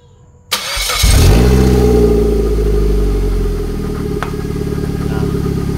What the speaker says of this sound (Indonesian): ini mesin sudah hidup